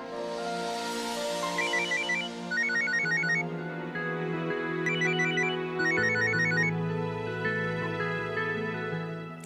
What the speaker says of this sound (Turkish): Telefonun çalıyor. Galiba kocan arıyor.